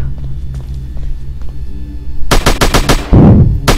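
Video game gunfire lands a headshot: a rapid burst of loud, close shots in quick succession with a booming impact partway through, following a low rumbling background.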